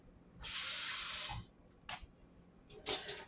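Water gushes from a tap into a pot for about a second, stops, then a couple of shorter splashing bursts follow, close by.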